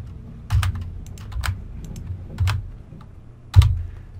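Computer keyboard typed on in short bursts, with soft clicks and a few louder keystrokes such as the enter key, close up and with no one talking.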